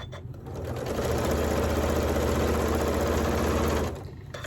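A sewing machine stitches binding onto a large quilt-as-you-go quilt, a steady close motor whir with rapid needle chatter that starts up, runs evenly for about three seconds, then stops.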